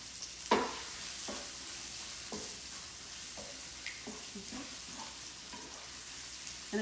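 Corn with breadcrumbs frying in a pan, a soft steady sizzle broken by a series of scraping stirs, the first one louder, up close.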